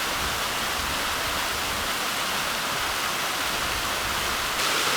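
Large waterfall in New River Gorge, West Virginia, a steady, loud, broadband roar of falling water that fills the whole stretch without a break, close by and continuous, with no voices.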